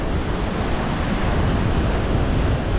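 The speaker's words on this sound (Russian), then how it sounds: "Послушать шум моря, ветер" Stormy Black Sea surf at Dzhemete near Anapa, a steady loud roar of crashing waves mixed with gusty wind buffeting the microphone, with no voices.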